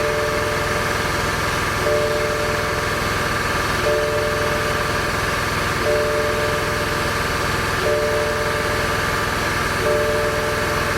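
A BMW 520d SE (E60/E61) diesel idles steadily with the ignition on, a constant mid-pitched engine drone that carries through the whole stretch, with a faint electronic tone pulsing about every two seconds and no talking.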